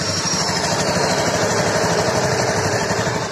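A Honda Beat scooter with a faulty engine idling right after it starts, a steady, close mechanical putter with a rattly vibration and a faint high whine, loud and continuous with no voices.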